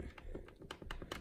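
Keys on a Tewell mechanical gaming keyboard are clicked in a quick, uneven run of sharp, close, quiet taps, with no one talking.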